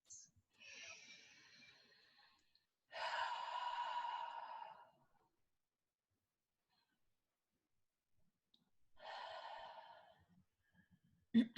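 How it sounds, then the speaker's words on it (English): Three long, slow breaths with audible airy inhales and exhales, spaced apart with quiet pauses between them, close and soft, taken during an Emotional Freedom Technique tapping session. "And take 3 deep breaths."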